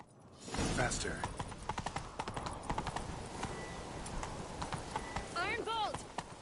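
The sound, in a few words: horses galloping in the video game The Witcher 3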